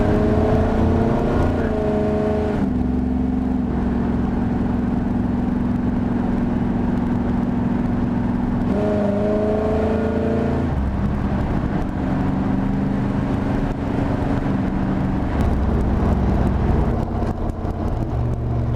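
A 1982 Chevrolet C10 pro street pickup with a 500+ horsepower engine revs hard and steadily, close and loud, its pitch climbing and dropping through several gear changes across a long, continuous run.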